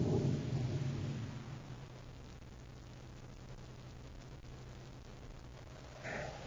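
Thunderstorm sound effect for a Space Patrol radio drama, a loud rolling rumble at the start that fades into a steady low drone of storm noise, with a brief swell near the end.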